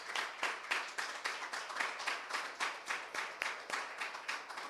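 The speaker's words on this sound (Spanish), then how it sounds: "¿Cuántos pueden darle un aplauso al Señor?" A church congregation claps in a brisk, regular rhythm, each beat sharp and evenly spaced, sustained as a unified pulse of hands at moderate loudness with no voices over it.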